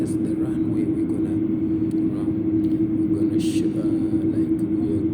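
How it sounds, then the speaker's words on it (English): Qatar Airways airliner turning onto the runway for departure from Doha, heard as a steady, loud jet engine roar and rumble with a persistent whine throughout. "You can see the aircraft is turning to the runway."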